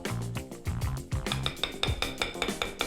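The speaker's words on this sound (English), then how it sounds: "we're gonna whisk into this brown sugar" A whisk beating pumpkin and brown sugar in a bowl, giving quick rhythmic clinking strokes against the side, close and moderately loud with no talking.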